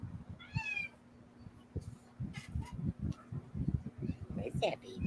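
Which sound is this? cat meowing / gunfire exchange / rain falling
cat meowing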